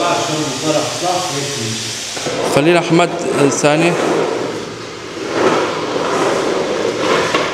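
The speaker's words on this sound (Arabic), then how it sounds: "شلون بيطلع البخار" Steam hissing from a wallpaper-removal steamer used to strip wallpaper off a home wall, a steady loud broadband hiss with brief mechanical clatter, heard under someone talking close to the mic.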